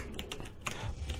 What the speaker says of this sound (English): I realise my keyboard's probably been fairly loud